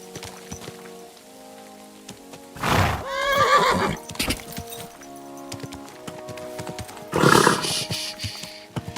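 In the video game Kingdom Come: Deliverance II, a horse gives two loud whinnies a few seconds apart, with clip-clopping hooves and a rainy outdoor background underneath.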